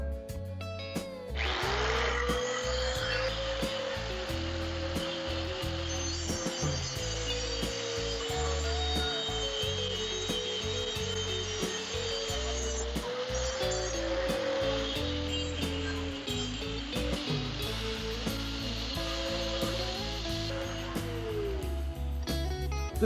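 A Drill Master 4.5-inch angle grinder runs with a grinding wheel, a steady high whine that starts abruptly and holds for about twenty seconds with slight pitch dips under load, close and loud with knocking noises beneath.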